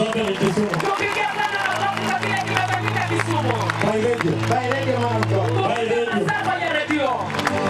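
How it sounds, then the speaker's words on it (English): A church congregation claps for a pastor at a healing service in Kericho, steady loud clapping blended with music, singing and crowd voices throughout. "let us clap to the Lord for Pastor Kericho"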